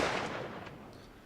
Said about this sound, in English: That is a gunshot.